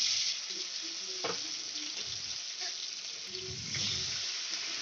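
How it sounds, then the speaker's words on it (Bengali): Garam masala with cardamom and cinnamon sizzling in hot oil, a soft steady hiss with occasional stirring scrapes and a brief bubbling swell, fairly quiet and close, no talk. "গরম মশলা, দুটো এলাচ আছে আর একটু দারচিনি আছে, তাই তেলের উপর দিয়ে দিলাম"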